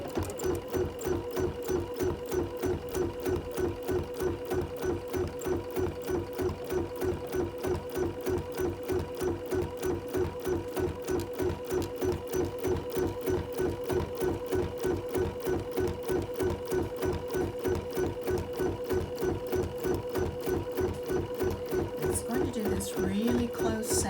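A sewing machine stitches a close satin stitch around the inner fabric of a mug rug, its needle running in a fast, steady, even rhythm close-up for the whole stretch.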